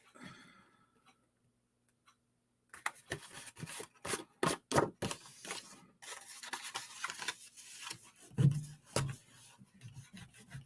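Adhesive remover rubbed over excess glue on a handmade circle swing card, giving close, dry scrubbing bursts that come in an uneven rhythm after a quiet start, with no talking.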